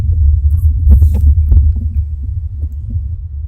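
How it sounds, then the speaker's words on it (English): Heavy thunder rolls outside during a live stream, a loud, deep, continuous rumble with faint crackles on top. "It's thundering bad."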